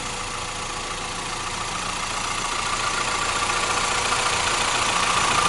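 A 2000 Acura Integra GSR engine hums steadily at idle, unbroken, even and mid-pitched, running alone with a slight rise in level toward the end.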